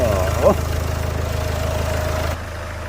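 A Land Rover Discovery Sport 2.0D HSE diesel engine idles steadily at close range after an oil change, a low even rumble with a faint higher whine and no voices.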